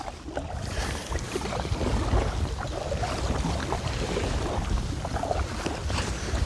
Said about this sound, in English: the wind coming down that valley is so icy